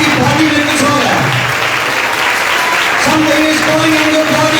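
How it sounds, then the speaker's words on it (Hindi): A church congregation at a Sunday service claps steadily and loudly throughout, a dense continuous wash of applause with a voice speaking over it. "ताली हो जाइए।"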